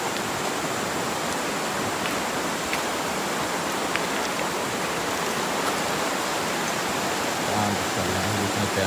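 Sungai Peang, a river at its upstream reaches among rocks, pours in a steady broadband rush of flowing water, loud and continuous throughout with no talk.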